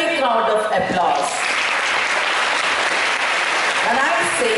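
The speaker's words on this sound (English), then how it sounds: "A big round of applause." Audience applause at a school Sanskrit Day program, a dense steady wash of clapping from a crowd, loud and continuous, with faint voices at the start and end.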